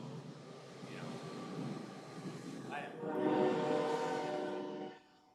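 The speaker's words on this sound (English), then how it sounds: "there's one of their trains" A U-Haul train passes at a distance with a steady low rumble that swells toward the end, and a horn sounds faintly near the middle.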